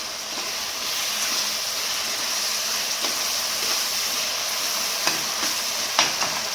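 Tomatoes and ground chillies sauté in a pan for a vegetable dish. A steady, fairly quiet sizzle runs throughout, broken by a few soft scrapes and taps of a stirring spoon.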